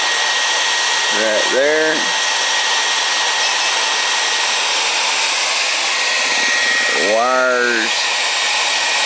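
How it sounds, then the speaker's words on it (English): A hair dryer runs steadily throughout with a constant broadband whoosh, while someone speaks briefly twice over it. "the hair dryer is still running"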